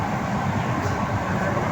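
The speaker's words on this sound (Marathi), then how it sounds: "आतमध्ये अंडरग्राऊंडच जाते गाडी" A Mumbai Metro Line 3 train runs underground, giving a short, steady, close rumble and rushing noise from the carriage.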